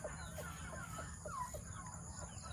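A rooster clucks in a farmyard, a series of short, repeated clucks spaced through a couple of seconds, fairly faint, over a steady low background hum.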